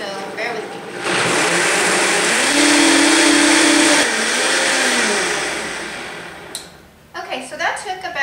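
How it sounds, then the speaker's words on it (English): A Vitamix blender, loaded with coconut and water, ramps up and roars at high speed, its pitch shifting as the mixture churns, then slows and stops near the end with a few knocks and rattles. "then what we do is we blend it up. And this takes quite a bit of time"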